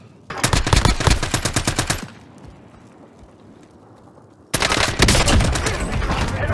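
Bursts of rapid automatic gunfire in Call of Duty: Warzone, one long rattling volley, a quieter pause and then another loud sustained burst.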